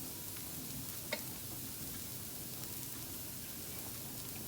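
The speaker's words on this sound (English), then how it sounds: "And wait for the dosa to cook." Dosa batter sizzles faintly and steadily in a hot cast iron pan, a soft even hiss broken once by a small tick.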